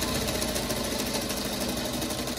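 A sewing machine runs steadily as a quilt fabric scrap is fed through, a continuous close, even motor hum and rapid needle chatter with no pauses and no voices.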